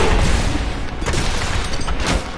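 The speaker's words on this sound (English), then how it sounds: "Good thing these grenades don't do any damage to us." Grenade explosions in Diablo III, a rapid volley of loud booming bursts and crackling blasts rolling over each other for a couple of seconds, close and dense with no talking.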